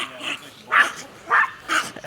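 A dog barks four times in an uneven rhythm, close and fairly loud, greeting passers-by on a path in Lowell, Massachusetts.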